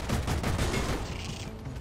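An auto sentry turret in the co-op shooter Deep Rock Galactic firing a dense rapid stream of shots, loud, close and continuous for under two seconds.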